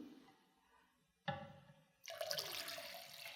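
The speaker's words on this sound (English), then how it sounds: "Then adding fresh water pre-mixed with flower food." Fresh water mixed with flower food poured into a vase for orchids, a soft clunk followed by a close, trickling pour that grows into a steady splashing stream.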